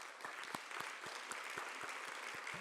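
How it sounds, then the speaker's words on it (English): Audience at a student graduation and achievement awards ceremony applauds the parents, a dense steady wash of clapping with sharp individual claps standing out near the front. "I think they deserve a round of applause"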